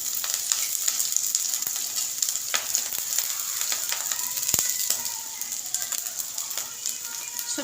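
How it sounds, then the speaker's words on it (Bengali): Chopped vegetables fry lightly in hot oil for mini singara filling in a village kitchen, a steady close crackling sizzle running throughout with occasional scrapes and taps of stirring. "সবজিটা হালকা করে ভেজে নিচ্ছি প্রথমে।"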